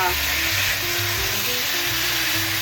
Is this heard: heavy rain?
no